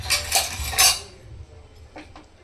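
Green peas and raw mango salad with grated mango, chopped tomato and coconut is stirred in a bowl: a few sharp clinks and scrapes of a utensil against the dish, then quieter, sparser taps.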